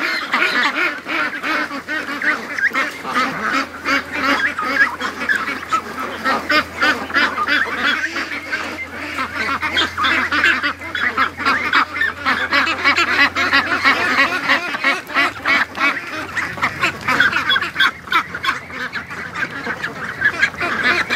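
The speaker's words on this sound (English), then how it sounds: "I don't know how this duck got in with the rest of them." A pen of juvenile free-range ducks quacking and honking in a busy, overlapping chorus, loud and close, with rapid repeated calls filling the whole stretch and no talking.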